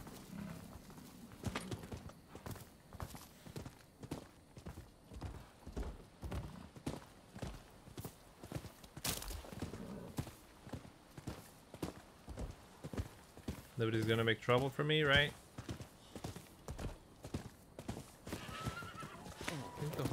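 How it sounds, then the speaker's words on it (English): A horse gallops in the video game Rise of the Ronin, with rhythmic hoof clip-clops running throughout and a loud whinny partway through, while a voice talks over it. "How good is this horse, though?"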